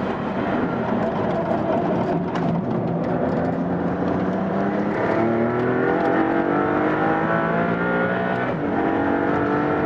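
A Maserati MC20 accelerating hard on the Modena circuit: a continuous, loud engine roar heard from inside the car, with rising, gear-stepped tones as it climbs through fast upshifts, no talk over it.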